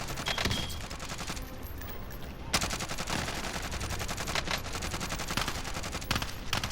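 Dense gunfire in Call of Duty: Modern Warfare, rapid automatic bursts and overlapping shots forming a continuous loud fusillade throughout, no talk.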